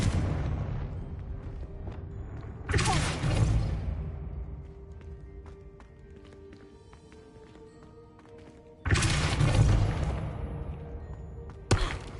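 Two loud blasts of the Confringo fire spell in Hogwarts Legacy, each a booming explosive burst followed by a decaying rumble, with quieter combat noise between them.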